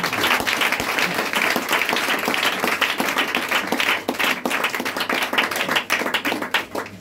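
Congregation at a church service applauding together, a dense sustained wash of many hands clapping close and steady for the whole stretch, with no talk over it.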